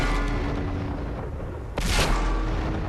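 A Ferdinand (Elephant) Tier VIII tank destroyer in World of Tanks fires its gun once with a heavy, close boom partway through, over a constant rumbling game ambience.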